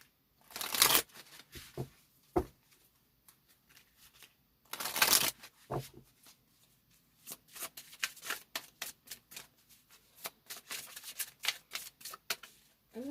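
Surrender oracle cards being shuffled by hand during a card reading: bursts of riffling and flapping card sounds, close and crisp, coming in uneven clusters with short pauses between them.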